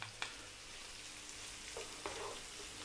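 Sliced onions and garlic fry quietly in oil with a soft, steady sizzle. A few faint clicks of a utensil against the pan cut through, and no one speaks.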